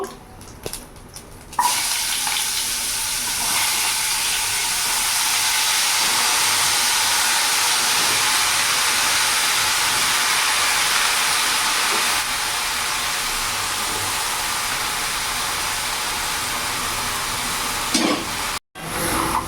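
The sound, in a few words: chopped bottle gourd frying and being stirred in a pan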